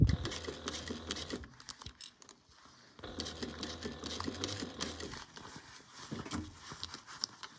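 A sewing machine stitches a small fabric mini bag in rapid, rattling mechanical runs that pause briefly and then start again, heard close and alone.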